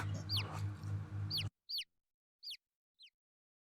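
Chickens cluck in The Great Ace Attorney, a few sharp squawks over background music, then three isolated clucks spaced evenly apart in silence.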